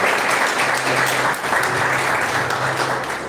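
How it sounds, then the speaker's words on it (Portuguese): Steady applause from a church congregation, dense and continuous clapping throughout, fairly loud with no voices standing out. "Vamos aplaudir a vida dele."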